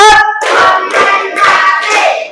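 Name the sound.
class clapping rhythm, tepuk ice breaker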